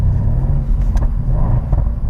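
A 2017 Mercedes C63 AMG S Cabriolet engine rumbles deep and loud at close range, a steady heavy burble with slight surges, no talk over it.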